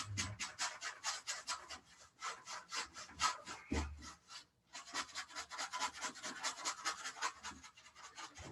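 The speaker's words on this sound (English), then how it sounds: "So you can really hear the scrubbing." A paintbrush scrubs wet paint back and forth in a landscape painting class, giving close, rhythmic scratchy rubbing strokes in quick bursts with a brief pause midway.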